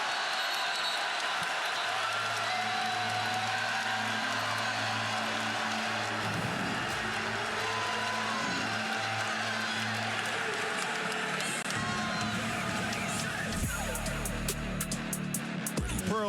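Basketball arena crowd roaring during a timeout at an Oklahoma versus Auburn men's college game, a continuous loud distant wash of cheering and noise, with music underneath and scattered claps toward the end.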